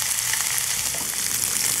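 Andouille sausage and vegetables sauté in a pan over medium-high heat, producing a steady, bright sizzle that stays close and even throughout.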